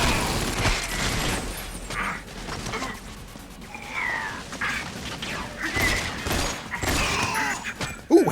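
Gunfire from the GoldenEye: Rogue Agent video game plays in repeated bursts of shots with clanks and impacts, moderately loud game audio over a steady background.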